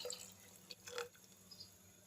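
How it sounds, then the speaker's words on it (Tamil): Paneer whey water is poured into a cooking pot, giving a faint, quiet trickle with a few soft splashes and drips over low background hum. "தண்ணி ஊற்றிடலாம்."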